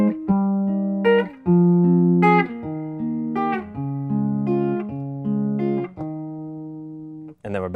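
Guitar plays the short instrumental break between chorus and verse of a song: a clear melodic line of plucked notes with sustained tones, close and fairly loud, and no voice.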